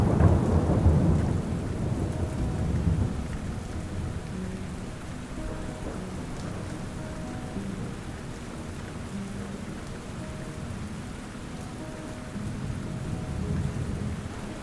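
A thunderstorm: rain falls steadily and thickly on surfaces, a low thunder rumble swells at the start, and the downpour continues without a break.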